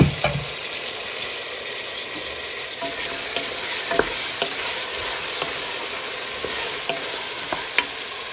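Potatoes sautéing in a pan, with a continuous close sizzle and occasional sharp ticks and scrapes of stirring throughout, no voices.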